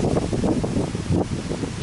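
Steady wind blowing outdoors at a picnic, a dense low roar buffeting the microphone with gusty surges and rustling, loud and unbroken with no voices.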